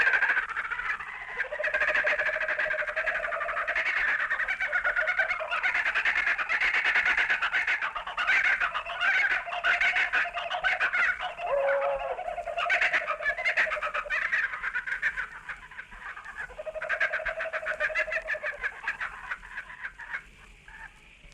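Australian kookaburras chuckle and laugh together at dusk amid farmyard animals, a steady, dense chorus of bird calls with repeated cackling bursts, continuous and moderately loud throughout with no voices.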